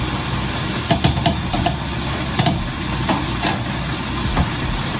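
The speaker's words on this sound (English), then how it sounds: "We're continuing to cook our onions." Onions cook in a pan for Marry Me Salmon, a loud, steady sizzle and hiss with occasional light stirring scrapes and taps throughout.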